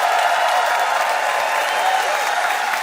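A studio audience applauds and cheers in a steady, dense wash of clapping, voting for comedian Lara Ray's anti-marijuana argument on a comedy debate show.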